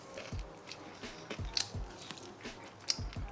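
Crunchy homemade chicken wings with mango habanero sauce being bitten and chewed up close, a series of sharp crunches and soft chewing clicks at an irregular pace, with no talking.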